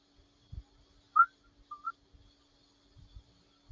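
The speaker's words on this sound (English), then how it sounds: "What are you whistling at?" Two short, faint whistled notes, a quick chirp followed by a softer steady tone, over quiet background with occasional low thumps.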